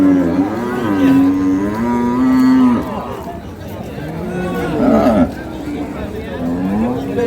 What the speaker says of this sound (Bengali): আজকে আমবাড়ি হাটে যে গাভী গরুগুলো রয়েছে